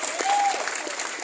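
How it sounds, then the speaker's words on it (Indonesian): Audience applause fills a Christmas church service in East Java, a steady wash of clapping throughout the short stretch with a faint sustained tone under it. "Lagi dong, tepuk tangan lagi dong."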